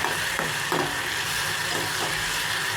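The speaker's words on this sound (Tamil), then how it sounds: "இது எல்லாமே சேர்த்து இப்போ நான் வணக்கிட்டுருக்கிறேன்." Shallots, garlic and tomatoes sauté in a hot pan with a steady sizzle, broken by a few sharp spatula scrapes as they are stirred, close and clear with no talking.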